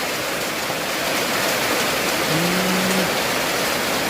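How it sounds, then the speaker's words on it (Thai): Heavy rain falls in a steady, dense hiss, close and continuous, with a faint brief tone partway through. "ฝนตกแบบนี้"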